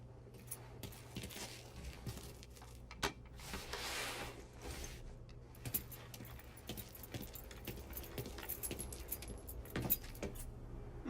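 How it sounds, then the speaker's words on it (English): Car keys jangle in the Mafia 3 video game, a close metallic rattling spread through the passage with small clinks over a low steady engine-like hum. "You got the keys so you can drive."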